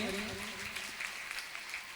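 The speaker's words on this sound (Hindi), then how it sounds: "जोरदार तालियां बजा करके सम्मान करें" Steady crowd applause fills a Jain religious gathering marking the 61st birth anniversary of Acharya Vinamra Sagar, with a voice briefly audible over the dense clapping at the start.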